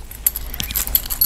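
Keys jangle close by as the key to a locked HotLogic Mini food warmer is handled, a brief burst of bright metallic clinks and rattles, loud and alone with no talk.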